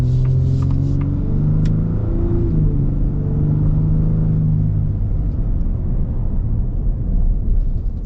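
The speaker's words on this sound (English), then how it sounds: "Sounds great for a V6." The V6 engine of a 2025 Shelby Raptor truck drones loudly and steadily while driving, with a deep rumble and engine tones that rise and fall slightly as the revs change.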